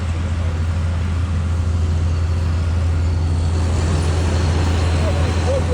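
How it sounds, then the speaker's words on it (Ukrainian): A reloader truck pulls away at a busy agricultural site, its loud steady engine rumble and road noise continuous and near throughout, with a faint voice now and then. "Гляньте, зараз перегрузчик і поїхав"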